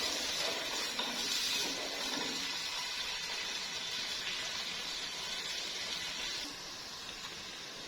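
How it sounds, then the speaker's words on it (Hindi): Onions lightly frying in a pan give a steady, fairly loud sizzling hiss that continues without a break, easing slightly toward the end. "प्याज को हम लाइट सा फ्राई कर लेंगे इनको।"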